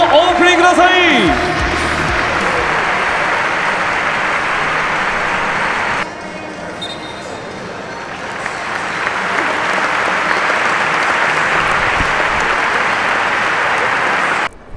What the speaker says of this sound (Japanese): 両チーム選手に大きな拍手をお送りください